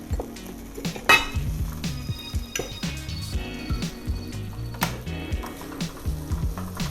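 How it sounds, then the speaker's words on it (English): Dry chilies and huajiao toasting in a pan over low heat, heard as close clinks and scrapes of a utensil against the pan with soft sizzling, irregular and fairly quiet, no voices. "Turn on the low heat and cook them for a while to make it more spicy."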